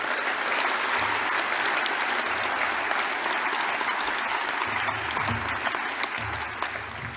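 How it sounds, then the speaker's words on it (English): Audience at a La Trobe University graduation ceremony applauds in a sustained, loud burst of many hands clapping that holds steady for several seconds, then begins to ease toward the end. "Let's give him another round of applause."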